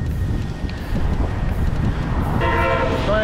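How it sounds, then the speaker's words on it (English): An Amtrak train rumbles past close by near a beach town, its heavy rolling roar steady throughout before a loud sustained horn blast cuts in near the end. "The Amtrak blowing the horn."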